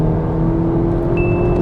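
2022 VW Polo GTI at full-throttle launch, a loud, steady engine drone with a rising whine, heard from inside the car.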